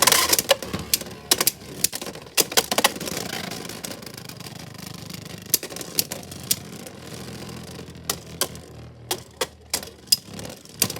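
Beyblade spinning tops battling in a stadium: rapid, sharp clicks and clacks of metal and plastic tops colliding, in dense bursts with short gaps, close and without speech.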